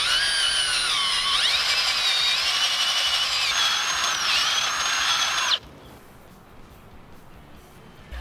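A power drill fitted with a tiller attachment whines loudly and steadily for about five seconds as it churns through garden soil, its pitch wavering under load before cutting off abruptly to quiet outdoor ambience.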